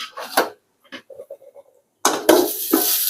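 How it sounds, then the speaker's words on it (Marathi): Ten to fifteen peeled garlic cloves are crushed for a bean vegetable dish, with scraping, grinding rubs in short bursts, a few light taps between them, then a louder, sustained crushing rasp. "आता मी लसूण चांगल्यापैकी ठेचून घेते"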